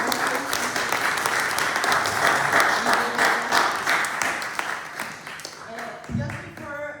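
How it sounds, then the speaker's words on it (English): An audience claps warmly after a lecture on Chilean women composers, sustained applause that gradually thins out, with a voice starting to speak near the end. "give an applause for"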